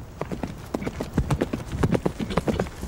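A horse gallops close by toward a dense shield wall, a quick, uneven run of hoof thuds and clip-clops lasting a few seconds.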